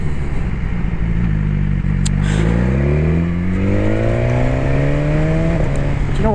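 Motorcycle engine holding second gear at low speed behind a slow Honda Jazz, a steady loud drone with rising harmonic pitch as it gently accelerates, wind rush throughout.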